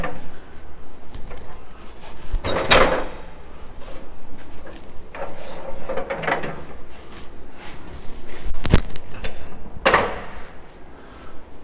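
The entry door of a 2020 Forest River Hemisphere 369BL RV is opened and closed, giving several sharp clacks and latch thumps with softer rattles between, close and fairly loud.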